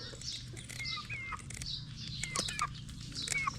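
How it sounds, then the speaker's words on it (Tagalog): Ducks cluck and chirp in short, busy calls, fairly close, over a low steady hum with no talking. "Kinakain po ito ng pato."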